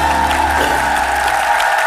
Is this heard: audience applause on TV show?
yes